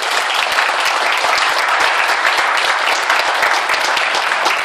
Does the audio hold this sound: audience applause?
yes